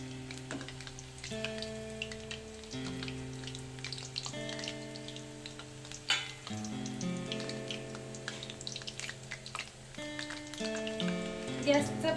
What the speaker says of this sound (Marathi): याला चांगल्या प्रकारे असं ब्राऊन ब्राऊन थोडंसं हलका ब्राऊन कलर येईपर्यंत तळू द्यायचं आहे, म्हणजे ते क्रिस्पीही होतात।